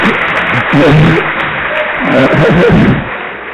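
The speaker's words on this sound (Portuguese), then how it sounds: "Pode aplaudir o Senhor, cara." Congregation applause at a church revival service, a broad wash of clapping filling the room with shouting and speech mixed over it, swelling twice before easing.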